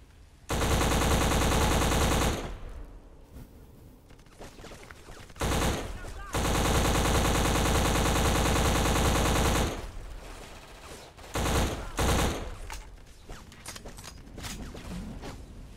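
Dense gunfire from the video game BLACK during a jungle firefight, loud bursts of automatic fire coming in long stretches broken by short gaps, with a few quieter moments of scattered shots and faint voices in between.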